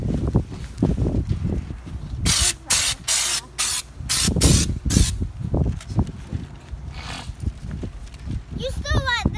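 Raptor bedliner coating goes on from a spray gun in loud, sharp bursts of hissing, several in quick succession and then a longer one, with people talking and shuffling between sprays.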